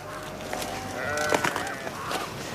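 Several sheep bleat in a valley farm setting, wavering calls rising over a busy background of flock noise, moderately loud and close with overlapping cries through the middle.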